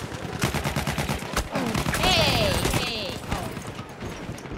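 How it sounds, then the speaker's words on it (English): Rapid bursts of Battlefield 1 gunfire crackle continuously, loud and dense, with an electronic whine rising briefly partway through. "Lots of gunshots!"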